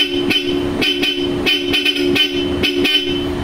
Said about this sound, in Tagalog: So check natin mga bossing yung tunog ng Bosch Europa natin.